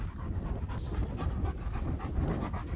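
A dog pants steadily and quickly outdoors, close and continuous, with rapid breathy puffs over a low background rumble.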